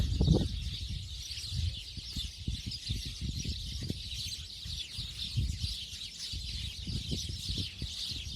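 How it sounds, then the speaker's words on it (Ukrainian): Many small birds chirp continuously in a busy outdoor chorus, with scattered low thumps and rustles closer by. "Дивіться, який пташиний базарчик."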